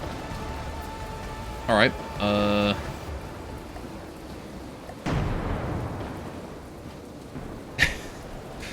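Stormy weather in From the Depths brings a constant patter of rain with a deep thunder rumble midway and a sharp crack near the end, broken by brief tonal blasts early on; a voice briefly speaks.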